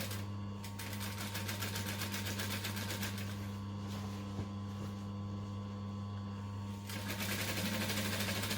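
A sewing machine stitching a rolled hem on a circle skirt, a continuous fast mechanical whir with a steady low motor hum, close and even throughout with no talking.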